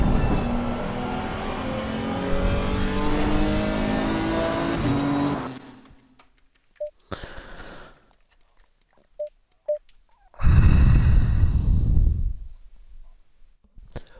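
Race car engine in Assetto Corsa Competizione, loud and steady with layered harmonics for about five seconds, then cutting out. Short clicks and tones follow, then a second loud burst of engine noise near the end.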